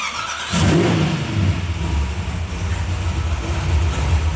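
A loud 355 ci V8 engine in a Chevy Chevelle with straight-pipe, mufflerless exhaust starts up and rumbles with a deep, raw note, idling roughly with slight revving, close by.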